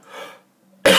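A single sharp, loud cough bursts out after a quieter stretch of murmuring, then rings on briefly.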